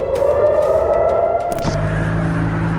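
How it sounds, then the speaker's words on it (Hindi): A missile-alert air raid siren wails in Israel, heard from a road while travelling between Dimona and Tel Aviv. The loud, sustained tone shifts pitch partway through over steady road and vehicle noise. "missile alert has been sounded and we are on the road"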